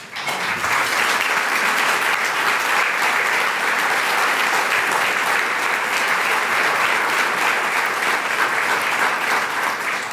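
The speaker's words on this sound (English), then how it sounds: "let's give them a round of applause" Steady, enthusiastic applause from a crowd at a charity sponsorship breakfast, sustained and even throughout, with no talking.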